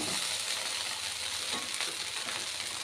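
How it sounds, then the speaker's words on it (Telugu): Chicken fried rice frying on a high flame makes a steady, hissing sizzle, close and continuous, with faint scraping of stirring underneath. "ఇదంతా బాగా ఫ్రై అయ్యేలాగా ఫ్రై చేద్దాం."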